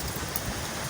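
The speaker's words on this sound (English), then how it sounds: "Well, it's still raining, but the rain is not so bad, you know." Steady rain falls in a Philippine setting during a strong wind storm, a dense, loud, continuous hiss with no voices.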